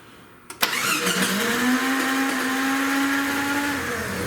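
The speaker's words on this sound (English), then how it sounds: "let's see if it'll crank. While I'm cranking on it, take a look at that" A Jeep ZJ 4.0L engine cranks with a sudden start and then a continuous, steady mechanical whir lasting several seconds, heard close and alone.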